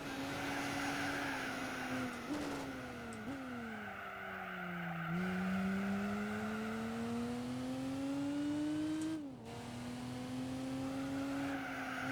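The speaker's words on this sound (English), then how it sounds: "one of the first games that had exhaust sounds being different if you upgraded the exhaust" A racing car engine in the video game Gran Turismo 4 drones steadily, pitch rising and falling with gear shifts and revs, continuous and fairly close, with no talking.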